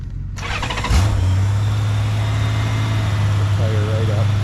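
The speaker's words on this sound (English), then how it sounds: "we'll start it up, let it warm up a bit" A carbureted 1997 Honda Goldwing GL1500SE motorcycle engine cranks briefly and catches, settling into a loud, steady, close idle.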